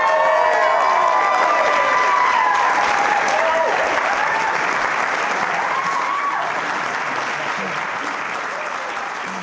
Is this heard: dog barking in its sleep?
no